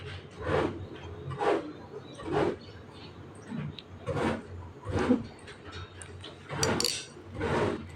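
Metal spatula scraping and tapping a frying pan while an egg is chopped up and scrambled, making intermittent clinks and scrapes in irregular bursts, close and moderately loud, with no talking.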